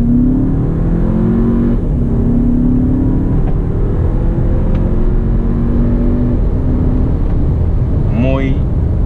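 A CUPRA Formentor pulls away hard on a dirt road, its engine note rising steadily in pitch with a loud, continuous roar and tyre and road rumble underneath, ending in a quick high rising whine near the end.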